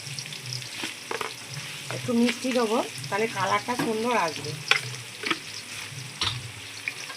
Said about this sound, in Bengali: এবার পেঁয়াজটা দিয়ে আমি নুনটা দিয়ে দেবো, তাহলে তাড়াতাড়ি ভাজা হয়ে যাবে